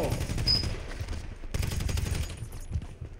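Shotgun fire in GTA 5, a cluster of heavy booming blasts in quick succession with a second burst about halfway through, loud and close.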